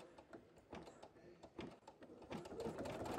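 A single-needle embroidery machine stitches a trim around a satin stitch on glitter canvas vinyl, making a rapid, steady mechanical chatter close by at moderate volume.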